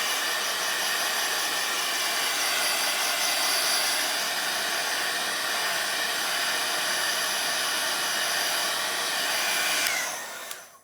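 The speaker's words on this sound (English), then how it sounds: "Let me give it just a really quick shot. Excuse me, with my heat gun, just real quick." Heat gun blowing a steady, loud broadband hiss across wet watercolor paint for about ten seconds, then cutting off abruptly near the end.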